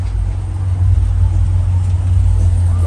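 A car idles and rumbles close by as it pulls up, a steady deep engine drone that stays loud throughout, under some speech.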